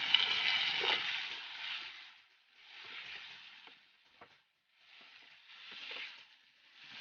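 Chicken pieces with curry leaves sizzle and fry in a pan on a gas flame, the hiss rising and falling in bursts as the meat is stirred now and then, with faint scraping clatter and no talk.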